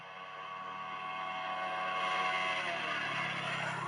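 A Bajaj Dominar 400 motorcycle accelerating in third gear on an evening ride: a steady engine drone with rising harmonic pitch, climbing and slightly louder toward the end.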